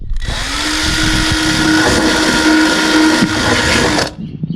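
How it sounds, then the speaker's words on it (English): Power drill fitted with a wire brush, cleaning mud and grime from behind a panel of a Ford Sierra; a loud, close, continuous whirring grind that runs steadily for about four seconds and then stops. "Just get the old wire brush in there and the drill."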